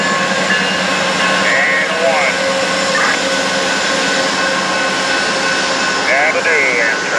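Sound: Amtrak California Zephyr train at Fort Morgan station

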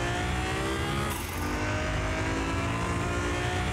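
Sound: Nissan GTR revving and accelerating in Car Mechanic Simulator video game

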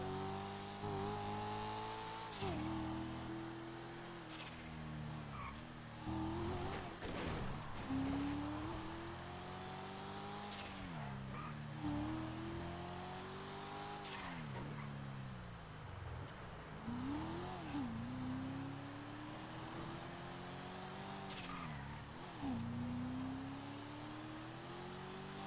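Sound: car engine revving and skidding in FiveM video game

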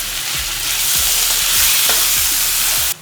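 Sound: chopped tomatoes with turmeric and salt stirred in pan

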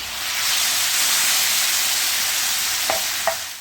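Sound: stirring lamb with pepper flakes in a sizzling saç tava

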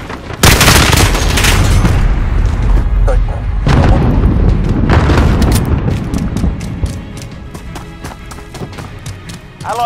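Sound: cluster strike explosions in Call of Duty Modern Warfare video game

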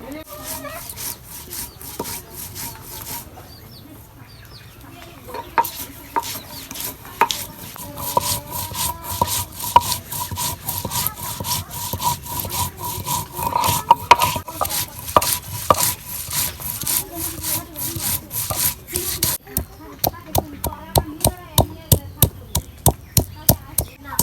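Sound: grinding ginger, garlic and onion on a grinding stone

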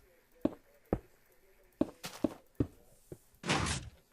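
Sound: Minecraft piston door opened by a lever, video game

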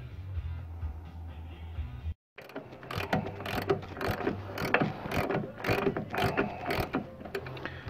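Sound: ratchet wrench on Dodge Durango ball joint nuts

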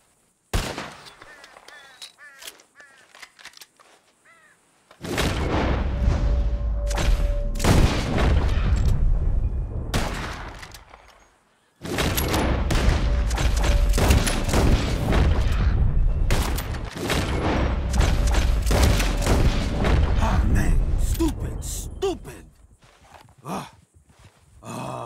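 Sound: gunshots at flying birds

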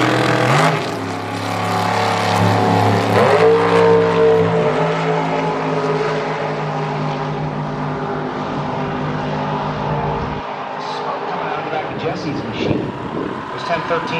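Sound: super gas drag racing cars launching side by side

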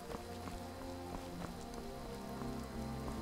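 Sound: rain in the video game Skyrim

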